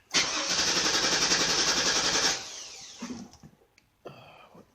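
Chevy Avalanche 2500 with a fuel problem being restarted: a loud starter whir cranks for about two seconds, then the engine catches and settles to a quieter idle with some clunks.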